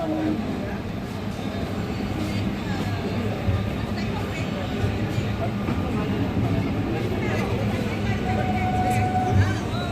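Amrit Bharat Express train departing Villupuram, heard from on board as a steady rumbling rattle of the moving carriages with faint chatter in the background.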